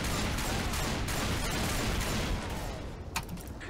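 Minigun in Left 4 Dead roaring in a dense, sustained burst of rapid fire that thins out near the end into a few scattered shots, loud and close.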